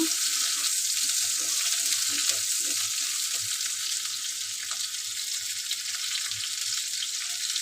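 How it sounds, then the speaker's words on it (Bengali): Potato pieces frying in oil with cumin in a pan, a steady, close, hissing sizzle that runs unbroken, with soft stirring clicks scattered through it. "ভাজা ভাজা করে নেব"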